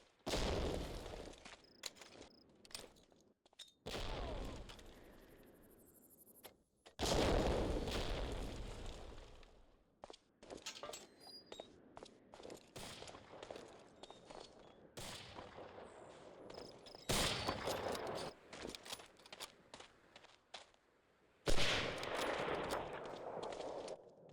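Sniper match in Medal of Honor: Allied Assault, with sharp gunshots scattered irregularly over about 24 seconds, some loud and close and others faint, plus occasional explosive bursts and no voices.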